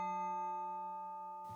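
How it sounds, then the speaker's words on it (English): A grandfather clock chimes the hour, sounding one clear, ringing tone with rich overtones that slowly decays, heard close and alone. "this grandfather clock here began to chime the hour"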